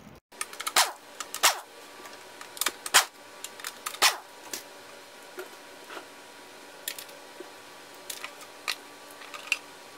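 5/16 bolts being removed from the front cover of a 1993 Johnson Evinrude 40 HP outboard motor, sharp irregular metallic clicks and ticks, close up over a quiet background.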